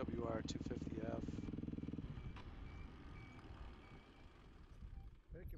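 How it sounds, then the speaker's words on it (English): A 2008 Yamaha WR250F dirt bike engine putters with a fast, even pulsing throb on a trail in northern Vermont, loud for a couple of seconds before fading into rumbling background with a voice speaking. "Riding a 2008 WR250F."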